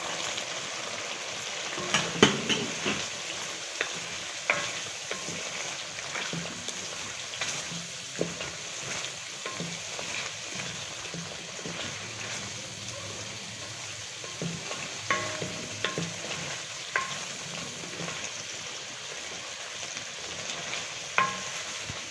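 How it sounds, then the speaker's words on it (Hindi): Chicken and carrots frying in a pan for a spaghetti recipe, with a continuous soft sizzle broken by intermittent scrapes and clinks as a utensil stirs the food, fairly close and at moderate loudness, with no talking. "तो देखिए ये चिकन हमारी भुन रही है"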